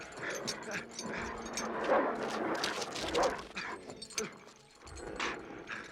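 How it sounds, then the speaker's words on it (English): Dogs in the 1982 film Conan the Barbarian bark, yip and whimper in repeated sharp bursts over a rough, noisy background of chase-scene action. "The dogs were actually vicious."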